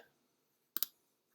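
Calculator buttons are pressed twice in quick succession, giving two crisp, close plastic clicks in an otherwise near-silent room.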